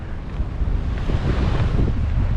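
Steady ocean waves and surf on the Westall Loop coast of South Australia's Eyre Peninsula, with strong wind buffeting the microphone in a continuous low roar and no voices.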